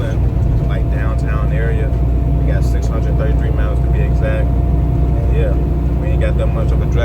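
Car cruising on Interstate 95 through downtown Baltimore, Maryland, with a loud, constant road and engine roar throughout and someone talking over it.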